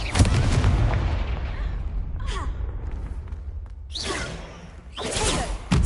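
Confringo spell blasts in Hogwarts Legacy: a fiery explosion booms near and loud, followed by whooshing, crackling bursts and a final sharp impact.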